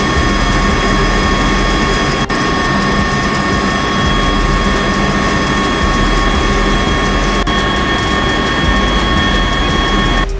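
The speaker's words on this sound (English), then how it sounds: "The Ospreys started their engines, rotors spinning up in helicopter mode." Engines and rotors of Marine Osprey tiltrotor aircraft in helicopter mode, a steady loud drone with constant whine tones throughout, close and continuous without speech.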